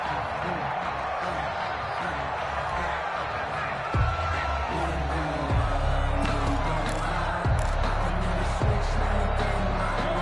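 Stadium crowd noise from a Madden football video game hums steadily in the background, a dense, distant murmur with occasional low thumps and faint cheers, carrying on without interruption.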